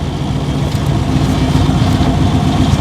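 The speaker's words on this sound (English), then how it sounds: "Driving second gear." A 1929 Marmon Model 78 sedan runs in second gear at the Indianapolis Motor Speedway. Its engine gives a steady, close, low drone with a rough rumble, and no one speaks.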